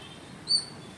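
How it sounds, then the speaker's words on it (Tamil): A brief, faint high chirp from a small bird, distant, over quiet background hiss. "ரொம்ப தூரத்திலிருந்து கேட்குறேன் இந்த குட்டி பறவையின் கீச்சொலியை."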